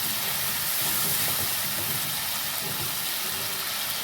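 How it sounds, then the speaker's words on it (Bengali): Water poured into spice paste frying in hot oil for Kashmiri dum aloo, giving a loud, continuous sizzling hiss that holds steady without a break. "এবার একটু জল দিয়ে দিচ্ছি।"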